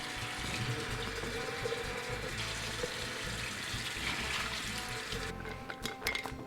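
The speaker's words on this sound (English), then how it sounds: "with some cold tap water, rinse the jar, rinse the beans" Cold tap water runs steadily into a jar of soaked chili beans, a constant splashing rush that shifts tone near the end as the jar fills and is handled; faint voices sit under the water.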